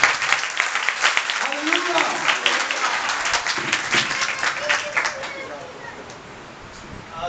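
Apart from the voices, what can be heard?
audience applause in church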